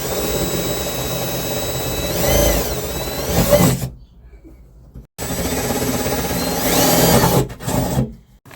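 A power drill bores holes in the bed of a Toyota Tacoma truck, whining in two sustained bursts that rise and fall in pitch, with a short silent pause between them.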